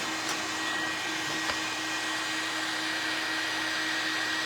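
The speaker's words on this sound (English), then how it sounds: "My printer's over here freaking out." A home printer runs noisily in a room, producing a continuous steady whirring hum with a faint tonal whine and a couple of soft clicks, unbroken throughout.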